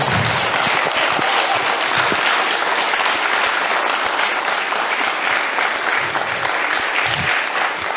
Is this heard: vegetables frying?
no